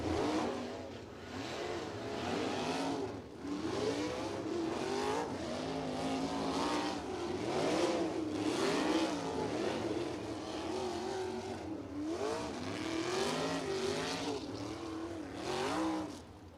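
A sprint car refires and runs hot laps on a dirt track at a USAC Indiana Sprint Week event at Circle City Raceway, its loud engine steadily roaring and rising and falling in pitch as the car circles, with no talk over it.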